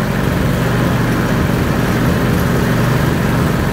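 A loud, steady boat outboard motor drone, a horizontal long-tail motor, with constant low rumble and hiss, running continuously without pause.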